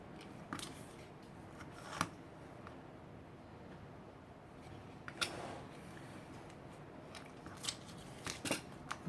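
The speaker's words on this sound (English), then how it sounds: "I'm going to cut me several sizes from these pages" Scissors snip through paper pages in a run of separate crisp cuts, with sharper snips around the second and fifth seconds and a quick cluster near the end, close and fairly quiet against a soft background hiss.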